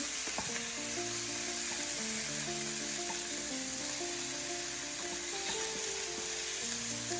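Veal cubes brown in a sauté pan, a loud steady sizzle of searing meat running throughout, with a few soft stirring scrapes and knocks near the start.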